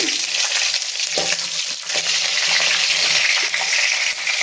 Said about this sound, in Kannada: ಎಣ್ಣೆ ಕಾಯಿಲಿ ಸ್ವಲ್ಪ ಸಾಸಿವೆ ಹಾಕೊಳ್ಳಿ